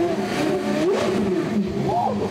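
A Porsche supercar developed for its Formula One program revs nearby, a loud buzzing engine note that rises and falls, with a voice heard faintly in the background.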